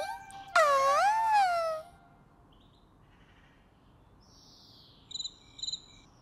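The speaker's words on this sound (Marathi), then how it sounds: "अरे रातकिडा." Cricket chirping at night in a cartoon scene: after a drawn-out wailing tone at the start, two short, fairly soft bursts of high chirping sound near the end against quiet background hiss.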